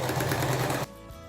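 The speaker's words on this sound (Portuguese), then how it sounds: "vou para a máquina utilizando a minha fita como guia da distância da costura" A sewing machine runs steadily, stitching fabric scraps guided along a seam line with tape, for under a second before stopping abruptly, leaving a faint hum.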